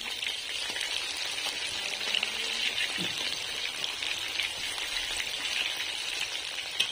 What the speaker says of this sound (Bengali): মাছগুলি আমার এক পিঠ ভাজা হয়ে গেছে, এবার আমি আর এক পিঠ উল্টিয়ে ভেজে নেব